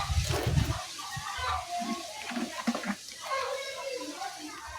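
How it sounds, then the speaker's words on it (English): Water poured from a container into poultry drinkers at a farm, splashing and gurgling in uneven bursts close by, loudest at the start, with a voice speaking softly over it. "So let me fill all the drinkers with water"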